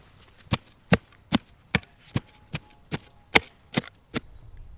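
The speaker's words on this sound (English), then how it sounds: "putting in the turf upside down at the bottom of the hole and mincing it up" A spade chopping upside-down turf at the bottom of a planting hole for a bare-root fruit tree: ten sharp, evenly spaced thuds about every half second, close and distinct over quiet ground.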